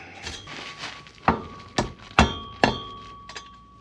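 Metal hammer strikes on a nut threaded onto a bolt end while stripping down an FB RX-7 with heavy rust; four sharp, ringing clanks spaced about half a second apart, close and loud over a quiet shop background.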